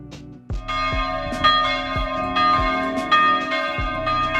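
A village clock-tower bell in Riva Bella, Corsica, rings loud and close, with a steady series of struck tolls whose overlapping tones hum on between strokes; no voices.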